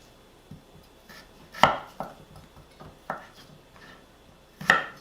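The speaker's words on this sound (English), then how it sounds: "Okay, so I'm just cutting it off." Knife chopping through a rutabaga on a cutting board: a handful of separate sharp thunks with crisp cracks, irregularly spaced, close and fairly loud, with quiet pauses between the cuts and no voices.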